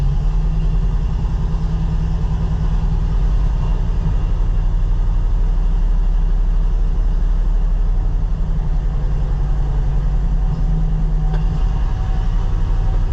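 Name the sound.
Ford L-Series truck engine idling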